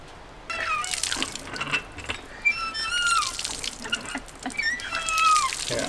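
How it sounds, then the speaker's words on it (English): Water is hand-pumped at a park water source on North Vancouver Island, with splashing and trickling bursts, gurgles and squeaky, irregular pulses close by at moderate level. "so you have to fit it in this big opening, and you have to pump the water."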